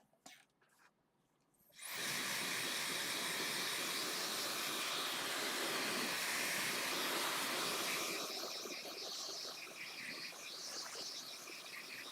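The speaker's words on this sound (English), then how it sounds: "And blow dryer." A few soft clicks, then a blow dryer switches on and runs in a steady airy whoosh that shifts slightly in tone partway through.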